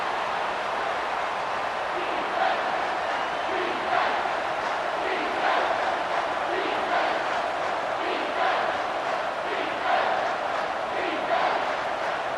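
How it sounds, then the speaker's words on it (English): A simulated stadium crowd in the video game College Football 25, at a Colorado vs Nebraska game, roars steadily during a third-down defensive stand, a dense and unbroken wall of cheering with slight swells. "Decibels rising as the crowd gets behind this defense on 3rd down."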